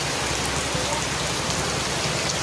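Rain falls hard outdoors near a tree, a thick, constant rush of drops hammering surfaces at close range, loud and uniform for the whole stretch without any voices.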